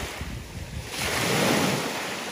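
Ocean waves break and wash up on a beach while wind buffets the microphone, the surf swelling louder midway through and staying as a strong, continuous roar with no voices.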